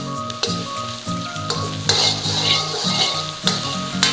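Pineapple shrimp fried rice with curry powder sizzles and fries loudly in a hot pan as it is stirred, with scraping strokes and occasional utensil knocks against the metal throughout.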